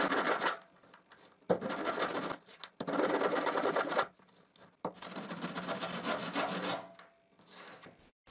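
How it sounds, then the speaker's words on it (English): A hand file rasps the burr off the enlarged hole of a drilled metal washer in four long back-and-forth strokes separated by short pauses, close and fairly loud, with no talking. "Now I just have to file the burr."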